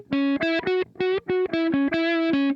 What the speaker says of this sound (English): If I turn off my reverb, it sounds like this.